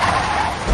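A Toyota Tundra full-size truck brakes hard on four large disc brakes, and its tires skid with a loud, sustained squealing hiss that swells again at the end.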